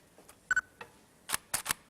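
A Nikon DSLR camera fires its shutter at a 1/5 second exposure, a few sharp mechanical clicks in a quiet room, spaced irregularly and close by.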